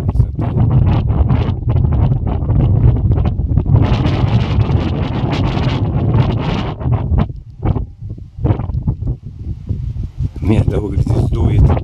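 Strong wind buffets the microphone on a rocky mountain top at Inzer Teeth in the Southern Urals, loud roaring gusts rising and falling for the whole stretch.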